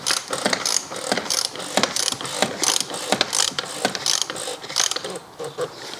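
A BMW oil filter housing cap is screwed on by hand during a DIY service, giving a rapid series of close, uneven ratcheting clicks and mechanical rattles.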